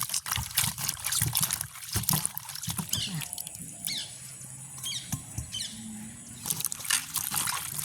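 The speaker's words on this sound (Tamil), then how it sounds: "இப்படியே மரக்கறிகளை கழுவி எடுப்போம் நம்ம." Vegetables being washed by hand in water in a village kitchen, with trickling, splashing and sloshing of water in irregular bursts, fairly close and alone without talk.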